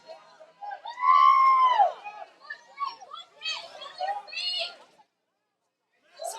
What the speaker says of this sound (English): the crowd is cheering for her like crazy